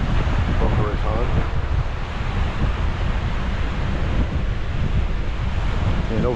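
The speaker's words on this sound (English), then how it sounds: "over the last couple of hours, the wind has really picked up" Strong wind blows at South Beach in Boca Raton, roaring continuously into the microphone with surf rumbling underneath, loud and unbroken throughout.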